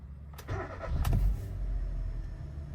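A Volkswagen Voyage with faulty fuel injectors cranks briefly and fires on the first try, then settles into a close, steady idle.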